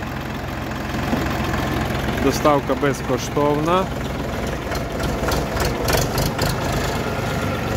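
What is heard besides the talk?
compact tractor engine idling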